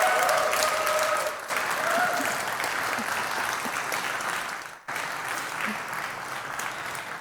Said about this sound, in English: There was really an applause for the team that has actually built it.